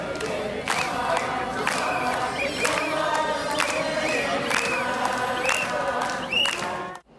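A dense crowd at a protest rally in South Korea chants, prays aloud and sings hymns in rhythmic bursts, with clapping and raised voices blending into a loud, continuous roar.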